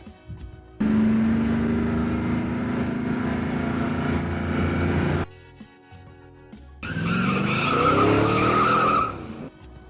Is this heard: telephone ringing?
no